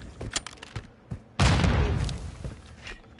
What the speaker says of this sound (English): Where'd that nade come from